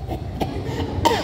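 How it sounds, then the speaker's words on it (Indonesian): Several short coughs from an older person with a long, drawn-out coughing fit, each burst sharp and close, spread across a brief moment with no talking. "Batuk-batuknya panjang sekali."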